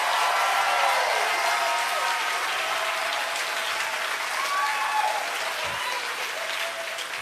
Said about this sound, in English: Church, can we just give them a big clap for you?